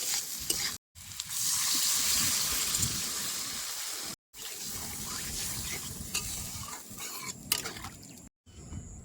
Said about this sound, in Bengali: আলু আর মশলা বেশ ভালো করে কষাই নিছি এবারে জল দিয়ে দেবো